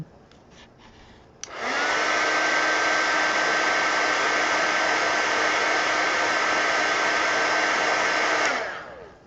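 A hair dryer switches on with a click and blows a steady, loud whir for about seven seconds to dry paint on a mixed media collage art card, then winds down.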